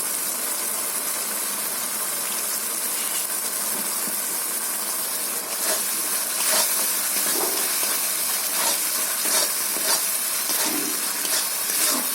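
Chili powder hits hot oil in a pan while a fish-bone curry cooks, giving a steady loud sizzle and hiss with scattered crackles and spatters throughout, no voices.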